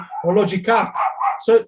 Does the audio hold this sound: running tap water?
no